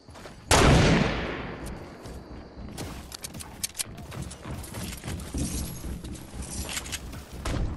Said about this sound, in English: Go on, pump him with your shotgun.